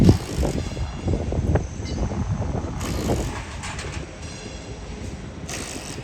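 A Sydney Waratah train approaches the station platform, its rumble and mechanical clatter building with rail noise and a few sharp metallic clicks, fairly near, with no talk over it.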